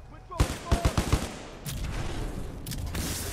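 Titanfall 2 gunfire: a quick run of five or six sharp, punchy shots in steady rhythm, followed by a lingering rumble and scattered distant firing.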